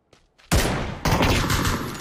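A loud sniper rifle shot cracks in the video game PUBG, followed by a sustained burst of sharp, dense gunfire that carries on for about a second and a half at close range.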